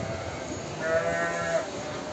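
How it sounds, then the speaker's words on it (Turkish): Young lambs being fattened on a farm bleat in a short, wavering call, fairly close, over steady barn background noise. "Bunlar böyle beslemeye aldığım kuzular."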